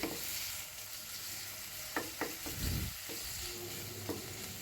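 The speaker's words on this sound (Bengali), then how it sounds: "তো সেগুলো এখন একটু ভেজে নিচ্ছি" Chopped vegetables coated in ginger-garlic paste, turmeric and chilli powder frying on a stove, a soft steady sizzle with a few quick spatula scrapes and one louder stir in the middle.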